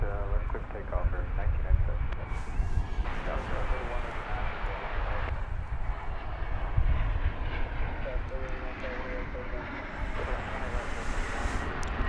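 An airliner taking off from runway 18 left at Dallas Fort Worth Airport, a steady distant engine roar rumbling throughout while a person talks over it.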